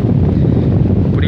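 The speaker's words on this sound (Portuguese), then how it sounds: "Tem muito vento, maretando demais." Strong wind over the São Francisco river while fishing from the water, roaring loudly and steadily as a continuous buffeting rush across the microphone.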